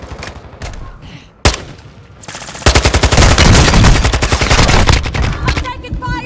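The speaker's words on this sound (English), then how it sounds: "I'm taking fire!" Call of Duty gunfire: one sharp close shot, then sustained rapid automatic fire in a loud, steady rattling stream over background game noise.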